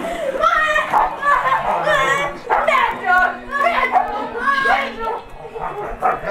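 A dog barks and yips in short bursts amid excited children's voices and chatter, close by and fairly loud, with playful commotion throughout.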